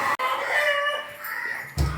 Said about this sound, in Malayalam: കോഴി ഭയങ്കര കൊക്കാണ് കേട്ടോ.